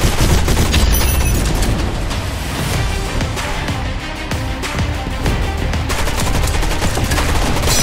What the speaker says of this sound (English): Next, I am trying a one Uzi challenge.